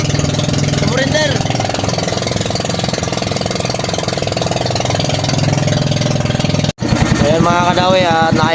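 A repaired fishing boat engine runs steadily, a loud, close, continuous mid-pitched drone that cuts out for a split second and then resumes, with people talking over it near the end.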